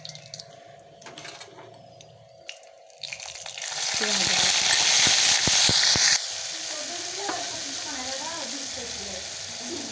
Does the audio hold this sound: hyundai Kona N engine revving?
no